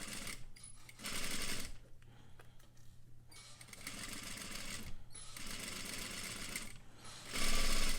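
A sewing machine stitches a curved seam in fabric in quiet, stop-and-start bursts of rapid needle chatter, pausing between runs as the work is turned.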